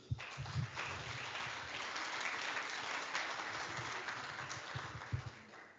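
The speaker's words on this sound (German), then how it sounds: "Kleiner Applaus für die Idee." Audience at a conference evening event applauds steadily for about six seconds, a dense, moderately loud patter of many hands with a few sharper claps standing out.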